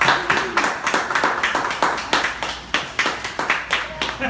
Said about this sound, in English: Let's give a good round of applause for Wayne Young.